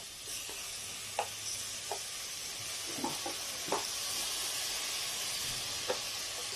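Tomatoes go into a pan of golden-brown onions for a mashed-potato recipe, raising a steady faint sizzle with a few soft stirring knocks and scrapes scattered through it.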